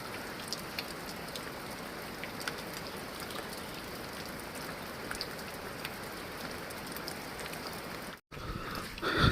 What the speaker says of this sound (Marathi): आणि बारीक बारीक पाऊस लागतो आहे